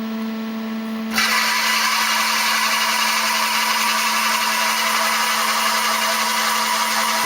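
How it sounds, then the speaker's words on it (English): The spindle of a CNC drill press switches on after about a second of quiet and then runs as a steady, loud, even whine with a constant motor hum underneath. "I'm also manually turning on the spindle. I'll start that, so there's going to be some noise from that."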